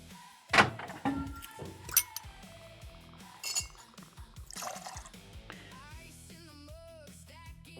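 Dark rum is poured for a cocktail: sharp glass and metal clinks, then a short, gurgling pour of liquid, all close and fairly quiet.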